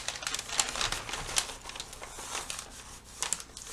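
Paper sewing pattern folded at a dart, crisp crinkling and rustling in short bursts, close and moderately loud, with no speech.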